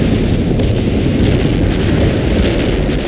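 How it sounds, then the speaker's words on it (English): An artillery barrage rumbles in a war video game, with deep, continuous booming explosions that overlap into a dense, loud roar and show no clear gaps between blasts. "Commencing the barrage."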